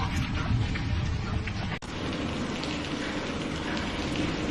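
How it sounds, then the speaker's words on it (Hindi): Heavy rain pours steadily at night onto a house where water is coming inside, a dense unbroken hiss that stays loud and even throughout with no voices. "इतनी देर से बारिश आ रही है, रुकने का नाम ही नहीं ले रही।"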